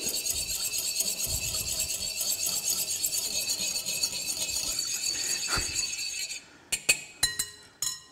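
Lavender and beeswax hand cream emulsion whisked fast in glassware, a continuous bright scraping whir that stops abruptly, followed by several sharp glass clinks and taps close by.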